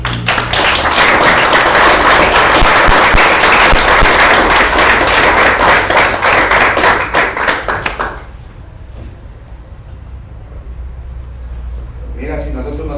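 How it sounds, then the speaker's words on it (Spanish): Church congregation breaks into loud, dense applause for about eight seconds before it abruptly dies away, leaving a quieter room with a faint stir near the end. "Dan un aplauso a Dios."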